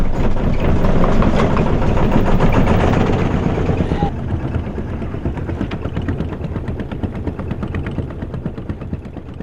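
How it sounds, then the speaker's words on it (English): A sailboat's engine runs steadily at sea, a loud continuous low rumble with a rapid throbbing pulse that holds throughout with little change, mixed with wind and water noise. "Going to have to put the engine on."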